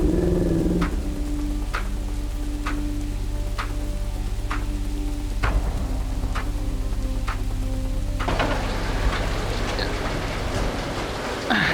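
Steady rain falls through a Filipino short film scene set around a ride with a helmeted driver, a constant broadband patter under a low engine-like hum, with sharp periodic ticks and a denser wash toward the end.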